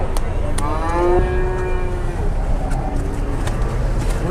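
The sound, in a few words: jumbo cows mooing while being loaded onto a truck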